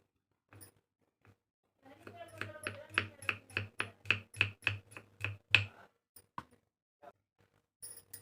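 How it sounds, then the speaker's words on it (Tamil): A knife chops garlic on a board in a village kitchen, about a dozen quick, crisp evenly spaced taps in a row, close and clear, with a few scattered knocks before and after. "பூண்டை கட் பண்ணிக்கலாம்."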